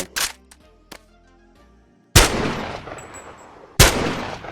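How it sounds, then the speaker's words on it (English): Single STEN gun shots in the VR game Boneworks: a sharp crack with ringing metallic tail and small clicks, then two loud, booming reports with long rumbling decays, spaced apart. "Listening to the individual gunshots"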